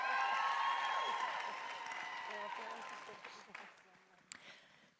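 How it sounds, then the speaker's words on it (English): Applause from a conference audience at a leadership panel rises briefly and then fades away, with a host's voice carrying over the dying claps. "give them a round of applause"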